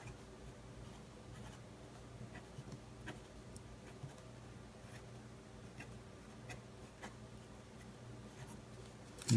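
Steady scratchy strokes of a Lamy Safari pen writing on Field Notes paper, pressed a bit heavily, with soft rhythmic scrapes and small ticks close up and fairly quiet throughout.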